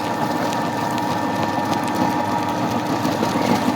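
A pellet granulator pressing waste through its die runs steadily, a close, loud mechanical drone with a rapid rattling texture and a faint steady whine, with no voices.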